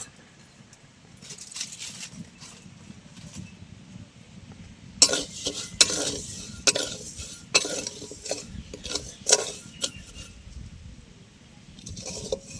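Sugar being stirred in a pan as it melts into caramel, with intermittent scraping and clinking of a utensil against the metal in short bursts, louder in the second half, no talk.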